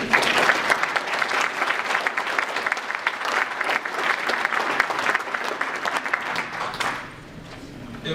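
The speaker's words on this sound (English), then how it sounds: "I definitely want to quickly get a round of applause for Middlesex Sheriff's Department." Audience applause for a sheriff's department at a talk, loud and sustained clapping from a large crowd that fades out near the end.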